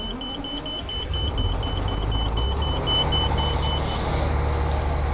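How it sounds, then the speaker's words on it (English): A fire truck starting up, its engine turning over into a deep, steady rumble while the air pumps building up the air brakes emit a rapid series of high, regular beeps close by. "So that beeping that we just heard, that's the air pumps getting up the air brakes and stuff, right?"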